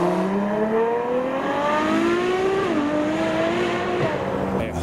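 A Porsche GT3 Touring and an Aston Martin AMR Vantage pull away from a car show, loud engines climbing steadily in pitch through the revs, with a gear change partway and another car noise at the end.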